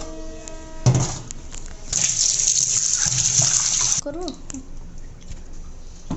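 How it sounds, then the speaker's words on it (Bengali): Fresh green tomatoes are rinsed under running water in a kitchen sink, with a steady splashing flow that swells midway, then gives way to softer handling and dripping sounds. "এখন এই টমেটোগুলোকে আমি ভালো করে একটু ধুয়ে নেব"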